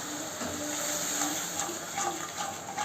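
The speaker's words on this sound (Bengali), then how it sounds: "এর মধ্যে আমি একটু পরিমাণ মতন জল দিয়ে দেবো।" Water poured into a pan of frying spice paste for prawn curry, giving a steady gushing, bubbling wash of liquid that fills the whole short stretch with no voices.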